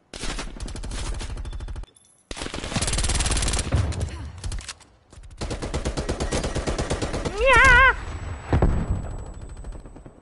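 Gunfire in the Black Ops Cold War video game, rapid automatic bursts ripping loudly and close in long dense volleys, broken by short gaps and a brief warbling tone, with a player talking over the shooting.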